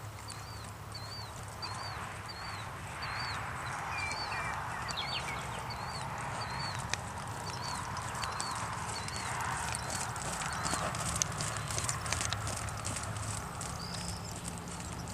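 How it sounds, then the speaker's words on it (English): A horse performs a counter canter, its hooves thudding in a steady rhythmic beat on the ground, while small birds chirp faintly in the background. "Beginnings of a little counter canter."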